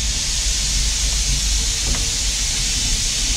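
Steady, loud hiss of escaping steam from a heritage steam locomotive on the Northampton and Lamport Railway, continuous and close throughout with no break.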